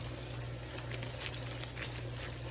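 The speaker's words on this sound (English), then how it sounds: "I'm gonna finish frying my chicken." Chicken frying in hot oil gives a steady close crackling sizzle over a constant low fryer hum, with small pops throughout and no talk.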